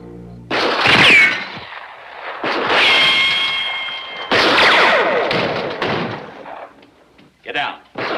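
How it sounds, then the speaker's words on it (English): Gunfire in the 1957 western film The Tall Stranger: several loud, sharp bursts of shots with ringing echoes, separated by short pauses, and no talk over them. "Gunfire!"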